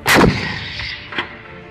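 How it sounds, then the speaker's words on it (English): A single artillery gun fires during military training, one sharp loud blast followed by a long rolling echo and a fainter second report about a second later, heard alone without voices. "Cannon. Shoot."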